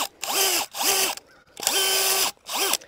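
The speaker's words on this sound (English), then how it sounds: "it gives me a little more control over the auger and the drill" Drill-driven auger bores into soil to dig a planting hole for a ninebark shrub, whirring loudly in four bursts separated by short pauses, each spinning up and winding down.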